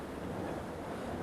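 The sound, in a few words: heavy rain pouring outside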